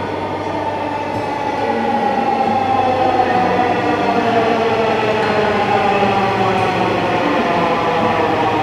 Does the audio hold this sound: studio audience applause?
no